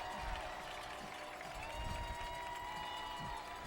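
A high school football crowd at a LaVergne versus Ravenwood game makes a steady, distant roar, a faint wash of cheering with soft low thumps underneath.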